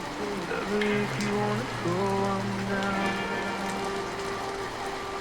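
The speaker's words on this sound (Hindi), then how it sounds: "शिकागो की गलियों में हल्की बारिश हो रही है।" Steady light rain patters on a Chicago street at night under a held, droning musical tone, the patter continuous and even throughout.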